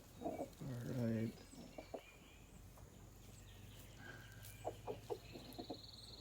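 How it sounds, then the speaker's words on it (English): A rooster gives low, rapid food-call clucks in short bursts near chickens being fed corn, close by, with a few softer clucks following amid quiet outdoor background. "you can hear that noise that the rooster is making"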